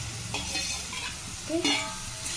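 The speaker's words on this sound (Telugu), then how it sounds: "ఇలా మగ్గిన ఉల్లిపాయల్లో మనం ముందే వాటర్లో ఉడకబెట్టుకున్న చిక్కుడుకాయ వేసి కాసేపు వీటిని కూడా మగ్గబెట్టుకోవాలి" Boiled broad beans sauté with onions in oil, giving a constant close sizzle with a few scraping stirs against the pan.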